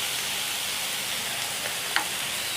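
Vegetables sizzle steadily in a hot pan for a white sauce pasta while being mixed, a dense even hiss with one brief scrape of the spatula near the end.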